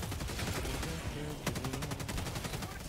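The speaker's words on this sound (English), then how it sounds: "Is that a tank that's shooting that much? I'm shooting that much." Rapid automatic gunfire from the player's weapon in Helldivers 2, a loud sustained burst of shots with one sharp crack standing out midway.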